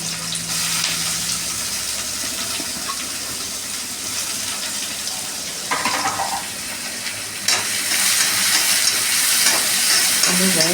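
Chopped onions frying in oil with mustard seeds for a snake gourd dal sambar, a dense continuous sizzle with scraping stirs, growing louder and brighter toward the end, with no talking.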